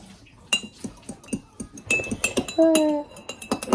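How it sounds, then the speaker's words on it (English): A fork beats eggs in a bowl while baking a birthday cake at home, giving a quick run of uneven metallic clinks and taps, with children talking quietly nearby. "just get a fork and mix them together"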